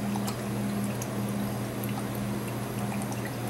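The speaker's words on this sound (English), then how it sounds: "A little bit of Liam Perrin's Worcestershire sauce" Lea & Perrins Worcestershire sauce poured onto jumbo shrimp makes a soft, continuous liquid trickle over a steady low background hum.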